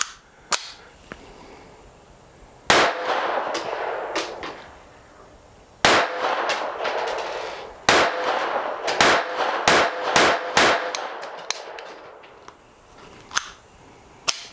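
A Taurus PT 22 .22 semi-automatic pistol fires a string of loud, sharp gunshots outdoors, some spaced apart and others in quick bursts, each with a brief echo.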